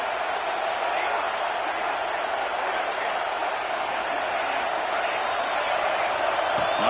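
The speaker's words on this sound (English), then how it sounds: "listen to this crowd noise. This stadium is vibrating." A packed football stadium fills with a dense, steady roar of crowd noise that holds loud and unbroken throughout.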